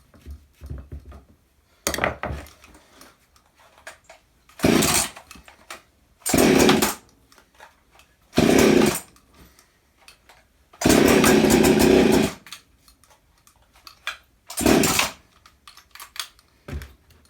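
A Partner Formula 500 chainsaw engine, choked, fires in short loud bursts of roughly a second each, stopping and restarting several times with quiet gaps of fiddling between runs.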